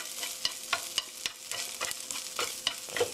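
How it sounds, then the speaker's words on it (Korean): Onions are stir-fried quickly with chopsticks, giving a brisk, irregular series of sharp scraping and tapping strokes over a soft, close-up sizzle, with no talking. "이렇게 빠르게 볶아주세요"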